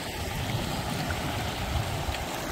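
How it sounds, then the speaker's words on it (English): A river at a backcountry crossing in Wyoming's Cirque de Towers flows with a steady broadband rush and gurgle, close and constant, without voices. "So we just made this river crossing."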